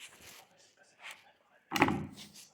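A door is pushed open inside an abandoned old factory, giving a sudden loud scraping thud near the end, after quieter rustling and movement.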